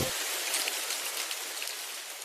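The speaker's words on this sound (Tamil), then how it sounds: "ஈவினிங் நேரம் மழை பெய்து கொண்டிருந்தது" Evening rain falls steadily, a dense, even hiss of drops on surfaces with no pauses, moderately loud and alone without any voices.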